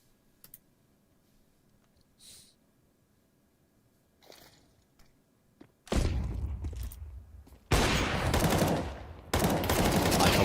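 Gunfire in a competitive Counter-Strike match from the ESEA League, starting with near silence and faint clicks, then erupting into loud, sustained bursts of rapid automatic fire with brief pauses between volleys.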